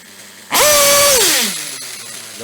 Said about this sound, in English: Listen to the idle. Nice and clean.